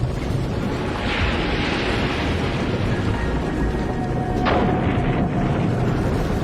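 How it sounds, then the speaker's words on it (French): A series of violent explosions as pressurized methane bursts free from melting buried hydrate, heard as a dense, loud, continuous low roar with one sharp crack partway through. "causant une série de violentes explosions"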